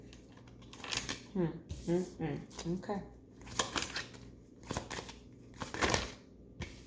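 Tarot cards are shuffled by hand in several short papery riffling bursts, with a person speaking briefly between them.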